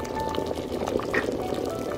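Bean and vegetable soup with pasta and potatoes bubbles steadily in a pot on the stove, a soft continuous simmering hiss with faint pops throughout.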